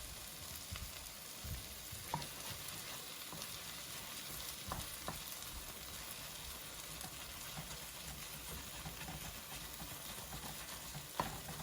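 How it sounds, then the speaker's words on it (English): A utensil scrapes browned bits from the bottom of a pot of beef short rib bolognese, faint repeated scraping over a steady low sizzle of cooking. "Just scraping up some of the brownness there on the bottom."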